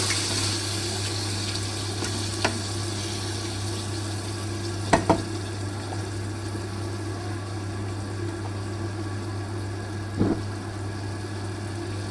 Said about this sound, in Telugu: కలుపుకొని కొంచెం వేగనివ్వాలి.